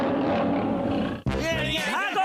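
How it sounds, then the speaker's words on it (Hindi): A cartoon lion roars loudly in a Hindi-dubbed animated episode, a sustained growling roar that breaks off briefly and resumes with rising and falling voiced tones. "भागो शेर!"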